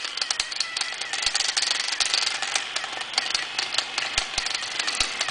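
A fischertechnik robot's small electric motor and plastic gears whirring steadily nearby, a continuous buzzing drive with rapid clicking ticks throughout.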